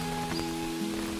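Heavy rain falling over a Kumarakom village, a brief, steady, dense hiss that fills the whole moment without any voices.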